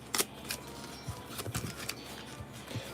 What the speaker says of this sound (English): Snipping this.